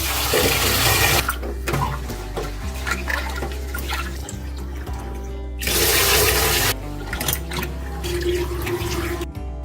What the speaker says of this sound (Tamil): இப்போ இது தண்ணி ஊற்றி நல்லா ஒரு நாலு கழுவு கழுவிக்கலாம்